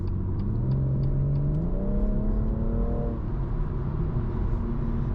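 Stock exhaust of a BMW M140i in Sport Plus mode, a steady mid-pitched engine drone that rises in pitch as the car accelerates, heard from inside the cabin.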